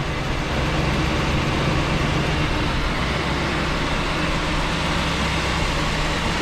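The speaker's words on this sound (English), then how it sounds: "We'll kick the engine off the fast idle and make sure it's still charging here in a moment." A 1966 Ford Galaxie 500 with a cold engine holds a steady fast idle, a constant broadband rumble and drone that runs evenly throughout without talk.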